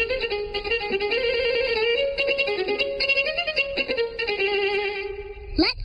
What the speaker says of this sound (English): The buoys on the map sound like this.